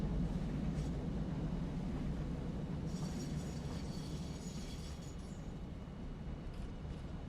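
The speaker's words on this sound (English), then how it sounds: "Man, the trains are loud." Trains in the factory-building video game Satisfactory give a loud, continuous low rumble and roar, a heavy steady drone with some brief higher metallic hiss, and no talking over it.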